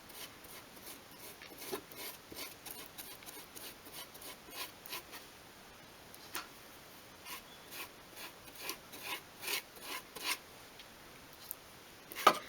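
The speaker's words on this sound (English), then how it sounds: "I'm using a smaller brush as well, so I can get into all the sort of nooks and crannies in there." Small brush stroking varnish onto a miniature 1/12-scale wooden floor, heard as quiet, close, irregular rasping rubs that grow a little busier toward the end, with no talk.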